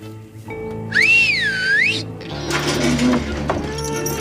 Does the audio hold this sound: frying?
no